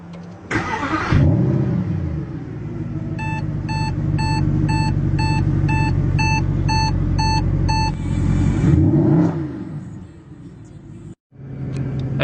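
A 2014 Mercedes-Benz AMG engine fires up at night with a loud starter crank and a burst of revs, then settles into a deep, steady rumble while a series of rhythmic electronic chimes beeps over it, ending in a brief cutoff and restart.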